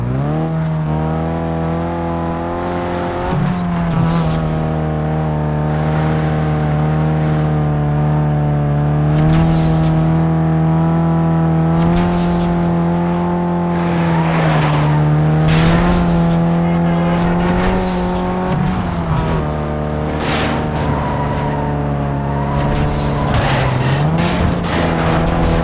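Racing cars in the video game Need for Speed: Most Wanted, with a loud, steady engine drone that rises and falls as the car revs and shifts gears. Brief skids and whooshes of passing cars cut in throughout, and no voices are heard.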